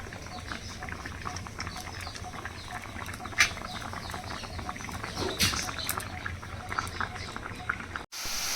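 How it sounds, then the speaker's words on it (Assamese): Banana flower frying in an oil-filled pan, a steady close bubbling sizzle that runs throughout, with a few light clinks and a short break near the end. "ইফালে মই কলফুলটো ভাজিছোঁ ধুনীয়াকৈ"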